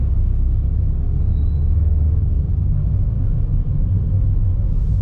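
A truck rumbles in slow traffic on a road under construction, a loud, continuous low engine drone close by with no talking.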